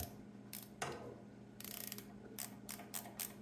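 A ratchet wrench loosens a small nut on a Troy-Bilt tiller being fitted with a Predator engine, giving bursts of rapid close clicking with short pauses between strokes, no voices.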